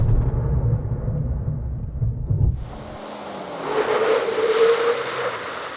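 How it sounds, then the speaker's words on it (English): A RAM TRX Final Edition pickup pulls up from 100 km/h under hard braking: a loud low road and engine rumble gives way to a rushing, whining roar of tyres and wind as the truck slows. "let's see what the brake and tyre package is like. We'll stop from 100."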